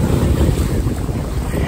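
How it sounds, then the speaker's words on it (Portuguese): Strong ocean waves roll in at a beach in Canoa Quebrada, a loud, continuous roar of surf mixed with heavy wind buffeting the microphone, with no talking. "A onda tá muito forte, porque já é."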